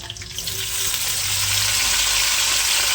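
Chopped onion sizzles in hot oil for a chicken gravy, giving a loud, even, close hiss that swells slightly and holds steady throughout.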